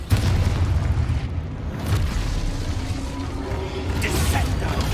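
A Confringo spell blast goes off in Hogwarts Legacy, a loud, dense burst of magical explosion and rumbling game effects that fills the whole stretch without a break.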